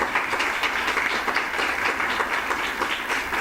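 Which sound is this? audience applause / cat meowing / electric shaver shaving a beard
audience applause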